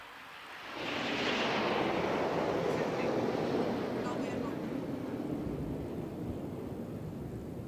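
Hawk trainer fighter jets flying past during a naval display, a broad roaring whoosh that swells in quickly and holds as a loud sustained rush before slowly easing off.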